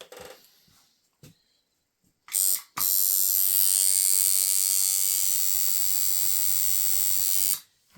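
A handmade tattoo machine clicks briefly, then starts and runs as a loud, steady electric buzz for about five seconds before cutting off, with no voices over it.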